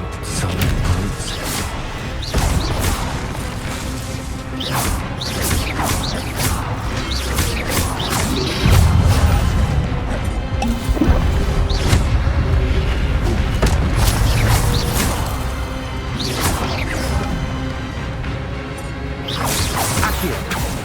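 Spells cast during combat in Hogwarts Legacy, dense game audio of whooshes, blasts, impacts and mechanical clanks layered over a steady backdrop, loud and continuous for about twenty seconds with brief voice calls.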